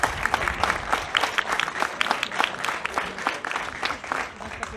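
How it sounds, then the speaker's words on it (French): Crowd applause at an outdoor protest rally against a young man killed by police, a steady dense clapping of many hands sustained throughout at close range, no speech on top. "Anas, sous vos applaudissements, s'il vous plaît."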